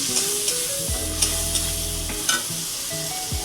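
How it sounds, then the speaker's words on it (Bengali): Spices and ground coriander stir-fried in a pan with fried lentil dumplings, a continuous close sizzle broken by scraping stirs and a few sharp clinks of the spoon against the pan. "এরপরে আমি এই যে মশলাটা দিয়ে দেবো, পরে একটুখানি এই যে ধনে গুঁড়োও দেবো। এবার এই যে কষিয়ে নেব।"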